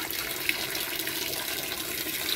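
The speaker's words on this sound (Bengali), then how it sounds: "মাংসটা ভালো করে ধুয়ে নেওয়া হচ্ছে।" Tap water runs steadily over raw desi chicken meat being rinsed, giving a continuous hissing splash at close range with small clinks and spatters on top and no talk.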